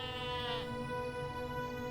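A sheep's wavering bleat from LOTRO, the Lord of the Rings Online game, a single drawn-out harmonic call that swells early then settles, close and clear over a steady game ambience with no talk.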